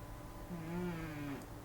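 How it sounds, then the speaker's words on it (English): A character snoring in a Harley Quinn video game, a single drawn-out nasal, kazoo-like snore lasting about a second over a faint background bed. "You guys hear him snoring."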